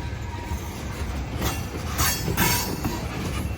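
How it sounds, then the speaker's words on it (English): A CSX freight train hauling big tank cars rolls slowly through downtown Greenville, North Carolina. The rumble is steady and close, with rhythmic wheel clatter and a few brief metallic squeals over it. "CSX slow rolling through Greenville, downtown."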